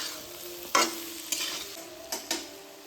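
Raw green mango pickle with sugar and spices, being stirred in a pan as it cooks: four sharp scraping strokes of a spoon over a soft, steady sizzle, close and fairly quiet, with no voices.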